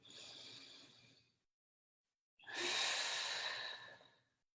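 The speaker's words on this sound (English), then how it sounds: "Let's take 3 deep breaths. Inhale." Two deep breaths during guided meditation: a long, airy inhale, a short silence, then a second, louder and longer breath, both close and clear with no talking.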